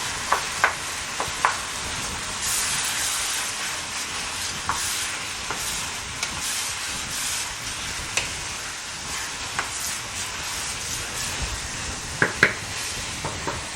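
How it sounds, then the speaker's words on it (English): Nigerian fried rice with gizzards is mixed in a pot, a continuous bright sizzle with irregular scraping and knocking of the spoon against the pot, close and without talk. "I'm going to mix everything in here."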